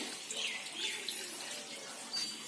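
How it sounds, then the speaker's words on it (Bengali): Water pours steadily into a pot while almond halwa is being made, a soft continuous splashing stream that stays alone and even throughout. "এখানে দিয়ে দেব 1 লিটার জল।"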